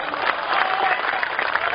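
Audience applause at a mushaira poetry recital in Vesma: dense, steady clapping from a crowd that fills the whole moment at an even, moderately loud level.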